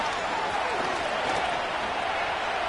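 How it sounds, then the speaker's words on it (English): A stadium crowd roars in Madden 25 before a third-and-long play in a Sunday night Jets versus Steelers game, a steady, dense wall of cheering and applause that holds at a loud level throughout. "The crowd cranking it up another notch before third and long."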